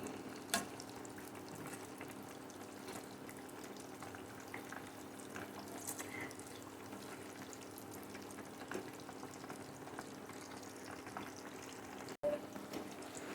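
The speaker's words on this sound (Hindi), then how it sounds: "ये देखें मीडियम टू लो फ्लेम पे हमने इन्हें फ्राई कर लिया है" Chicken wontons frying in oil over a medium-to-low flame give a faint, steady bubbling sizzle throughout, with a couple of brief clicks and knocks and no talking.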